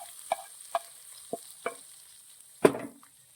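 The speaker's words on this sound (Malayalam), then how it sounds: "നമ്മുടെ താളിപ്പ് റെഡി ആയിട്ടുണ്ട് നമുക്കത് ചാറുകറിയിലേക്ക് ഇട്ട് കൊടുക്കാം" Tempering poured into a pan of mango and papaya curry and stirred in, a few soft scrapes and knocks followed by one louder sizzling splash, no talk.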